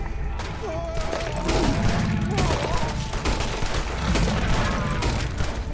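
Repeated bursts of gunfire in the Red Dead Redemption 2 video game crackle close and loud through a sustained battle, with a voice speaking over the shooting.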